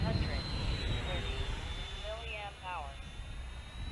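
A Freewing 90mm F/A-18C Hornet RC jet flies with landing gear and flaps extended, its ducted-fan engine producing a steady distant whine and roar with a faint high tone and brief rising pitch sweeps, while someone talks over it.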